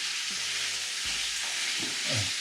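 Tomato puree being stirred into a hot pan, a dense, steady sizzle and frying hiss close by, with soft scraping stir sounds underneath and no talk.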